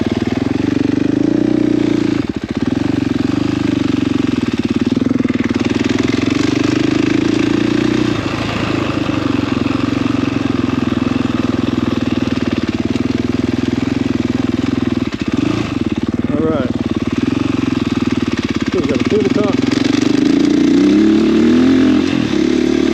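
A dirt bike ridden around a motocross track with tabletop jumps, the engine droning loud and continuous for the whole stretch, its pitch rising and falling as the rider throttles on and off through the lap.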